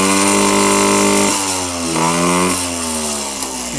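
Yamaha PW50 dirt bike two-stroke engine after a carburetor pilot screw and throttle cable adjustment, revving up briefly then dropping back to a buzzy idle, close and loud with no speech.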